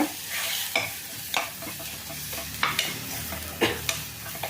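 Sambar powder masala sizzles steadily in a pan while being fried for cabbage kurma, with a spoon stirring and scraping the pan every second or so; close, with no talking.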